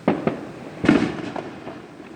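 Fireworks explode on July 4th, a few close booming bursts: two quick bangs, a louder blast with crackling tail, then fainter pops fading out.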